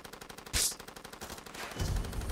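Automatic rifle fire in the Far Cry 2 video game: rapid bursts of close gunshots, a sharp louder crack near the start and a heavier burst toward the end, with no talk over it.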